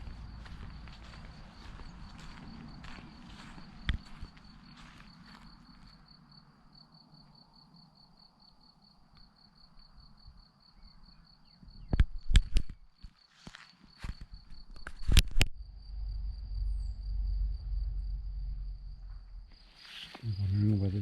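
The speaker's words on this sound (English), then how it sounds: "can you hear the sound of the crickets?" Crickets chirp outdoors on an April day, a thin steady high trill running through most of the stretch, interrupted by nearby clattering knocks and rustling bumps.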